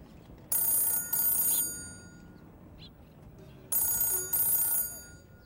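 An old-style telephone bell rings in two separate bursts, each a double ring of bright metallic clanging, with a quiet pause between the bursts and no talk.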